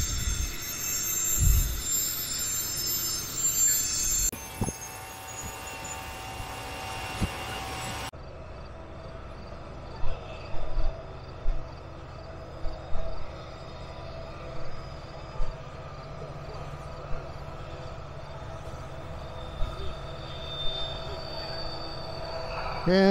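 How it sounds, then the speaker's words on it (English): A freight train with tank cars passes on the Horseshoe Curve near Altoona, Pennsylvania, a moderate rumble of wagons and wheel squeal that drops off midway, leaving distant rail noise with occasional knocks. "And there's the end of the train"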